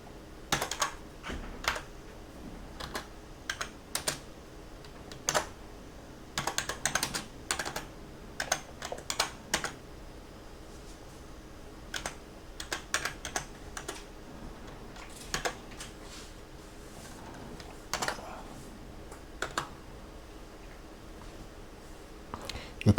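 Typing on a computer keyboard makes scattered, quiet clusters of close key clicks, with pauses between bursts.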